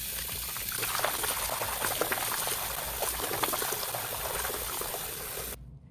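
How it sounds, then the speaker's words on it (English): Tap water runs steadily into a sink, filling it about halfway for soaking a knitted cowl; a continuous close, bubbling gush lasts several seconds with no talk before the flow shuts off abruptly. "I'm going to fill up the sink to about halfway, enough to submerge my piece freely."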